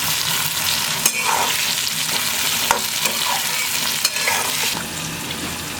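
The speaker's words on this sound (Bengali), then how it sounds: "পেঁয়াজ আলু কাঁচা লঙ্কা ভেজে নেবো" Onion, potato and green chilli fry in hot oil while stirred, a loud continuous sizzle close by with periodic sharp clacks of the spoon against the pan every second or so, with no talk.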